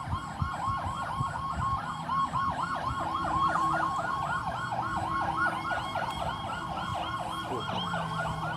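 An emergency siren wails in a fast, repeating up-and-down pattern at moderate distance, steady over traffic rumble.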